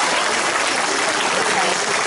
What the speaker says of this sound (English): For getting a standing applause